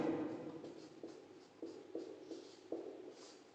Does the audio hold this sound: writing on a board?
yes